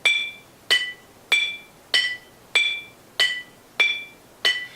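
Partly filled glass Snapple bottles are struck in turn, producing eight sharp, ringing clinks that alternate between two pitches. The hits come at a steady, evenly spaced rhythm, close up, with short decays and no talking.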